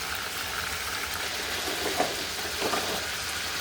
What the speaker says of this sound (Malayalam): ഷാലോ ഫ്രൈ ചെയ്തെടുക്കാം